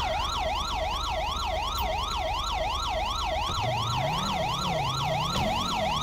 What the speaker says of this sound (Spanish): Joder, qué cansino con la sirena.